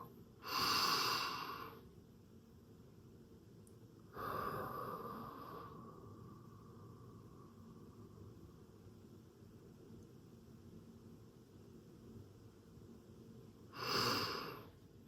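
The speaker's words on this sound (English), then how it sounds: "When you breathe, breathe in with your stomach, please." Deep belly breathing during a guided breathing exercise: three loud, close breaths, each a few seconds long and separated by long quiet gaps, with no talking.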